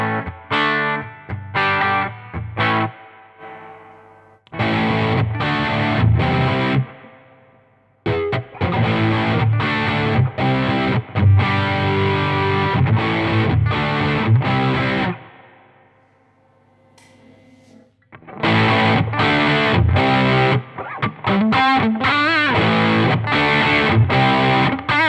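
An electric guitar played through the clean channel of a Mooer Hustle Drive pedal, with strummed chords and picked phrases in loud bursts separated by short pauses.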